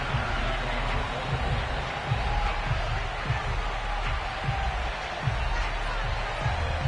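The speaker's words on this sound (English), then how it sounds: "The two teams emerging from their respective tunnels a minute ago to the approval of this Baltimore crowd." Steady, dense roar of a Baltimore crowd at M&T Bank Stadium in a Madden football video game, cheering continuously at moderate distance with no clear peaks, as the Ravens face the Detroit Lions.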